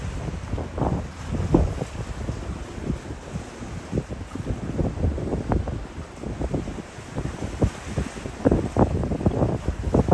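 Gusty wind roars across St Kilda Beach in Melbourne on a cold day, buffeting the microphone in uneven surges with a low rumble throughout and no voices.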